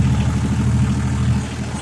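A tractor engine runs steadily while being driven, a loud, continuous low rumble with a dense mid-range drone that holds even throughout without any clear revving.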